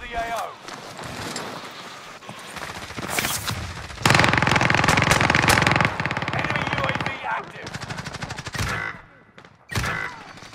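Rapid automatic gunfire in Call of Duty Warzone, dense bursts of shots with a long sustained volley in the middle and shorter bursts after, with voices talking over the game.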